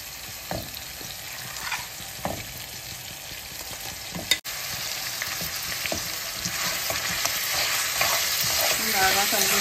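Mutton pieces stir-fried in hot masala for a mutton chana dal curry, with steady loud sizzling and repeated scraping stirs, one sharp clatter midway, and frying growing denser toward the end; no talk.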